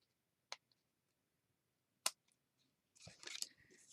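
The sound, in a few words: trimming edges of paper gift tag strips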